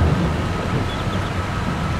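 Steady heavy rain with a low thunder rumble fills the scene in Farming Simulator 22, a loud, continuous wash of downpour with no break and no voices.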